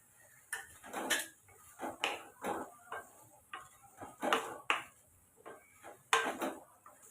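Ground masala and eggplant being stirred in a cooking pan, with a spoon scraping and clinking against the metal in uneven bursts, close and moderately loud, no talking.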